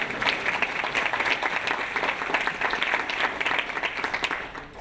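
University town hall audience clapping in a steady burst of applause that stays fairly even for several seconds before easing off slightly at the end.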